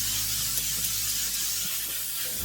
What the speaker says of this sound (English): I'm going to seal everything in with the L'Oreal Infallible Setting Spray